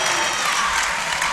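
Fans cheering wrestlers in a school gym at a high school wrestling meet: a continuous bright wash of cheering and clapping, fairly loud and even, from a crowd of spectators filling the gym.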